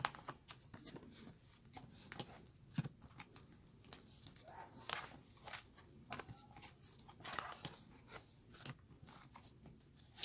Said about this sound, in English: Again, just mixing up the cards that we looked at.